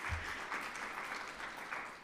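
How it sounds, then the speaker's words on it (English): An audience at an undergraduate poetry reading and open mic gives a short burst of applause, dense clapping that holds steady for the whole moment. "Give another round for Diya."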